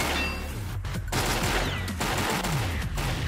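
Rapid automatic gunfire rattles in a tactical shooter match, with loud continuous bursts over dense game noise and brief gaps between volleys.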